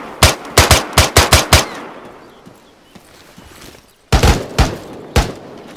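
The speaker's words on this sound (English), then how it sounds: "Oh, we're taking fire in here." Bursts of automatic rifle fire in an ArmA 3 firefight: a rapid string of loud, close shots, a quiet gap with a fading echo, then another short volley and a single shot.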